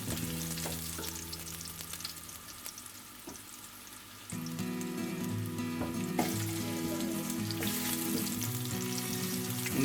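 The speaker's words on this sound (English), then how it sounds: "Yeah, that's a good sign to hear it sizzling." Chopped ginger fries in a hot oiled pan, giving a continuous close sizzle that grows louder and busier about halfway through, with faint stirring and water-like hiss underneath.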